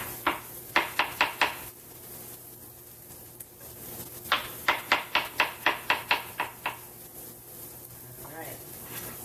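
A knife chops mushrooms on a cutting board in quick, even taps, first a short run of about six, then a longer run of about eleven, close and crisp over a low kitchen hum, with a brief bit of talk near the end.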